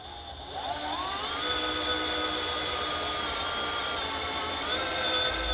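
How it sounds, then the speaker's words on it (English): A power drill with a 17/32 bit bores straight through a car frame while a base plate kit is fitted, a steady whining motor with pitch rising as it spins up, then holding a constant loud grind. "So now we're going to drill out our hole in this location here, going straight through to the other side."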